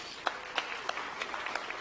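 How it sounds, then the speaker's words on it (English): Scattered applause at an awards ceremony honoring African American living legends, fairly faint and thin, with a handful of distinct claps standing out over a soft background of clapping. "Let's give another round of applause, please."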